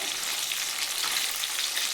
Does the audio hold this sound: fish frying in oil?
yes